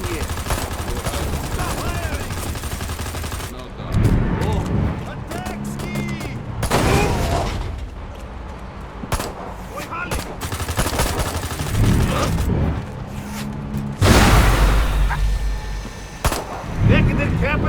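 Gunfire erupts in Destroy All Humans 2 Reprobed as repeated bursts of shots and blasts crackle in clusters throughout, loud and close, mixed with game voices speaking between volleys.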